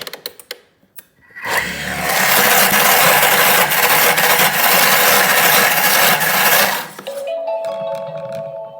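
A Thermomix blends spinach at speed 7: a loud, steady whirring roar that starts abruptly, holds for about five seconds, then cuts off and leaves a faint hum, with a few clicks before it.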